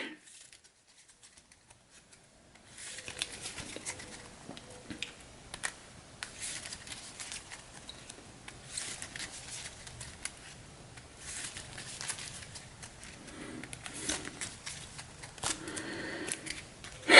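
A deck of cards is shuffled during a Hero Realms tabletop game, quiet riffling and tapping bursts after a couple of seconds of near silence, soft and close, with brief rustles throughout.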